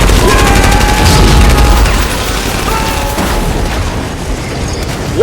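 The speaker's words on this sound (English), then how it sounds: "What an insane visual of this helicopter explosion." A helicopter blows up in an action movie with a loud, sustained booming blast and roaring rumble that slowly fades over several seconds, dense debris-like crackle throughout, no voices.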